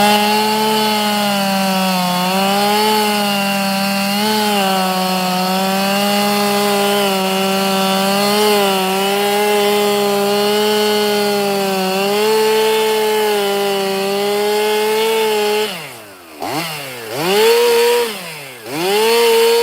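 A chainsaw runs steadily while clearing woods in Georgia, its loud engine holding a high whine for about fifteen seconds before revving and dipping in a few uneven bursts near the end as it cuts wood.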